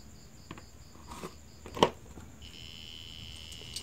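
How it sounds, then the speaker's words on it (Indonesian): A faint, steady high-pitched electronic buzzer tone from the emergency warning system speaker of a faulty DVB-T2 set-top box drones throughout, with one brief knock partway through and no talking. "nah buzzer EWS masih bunyi"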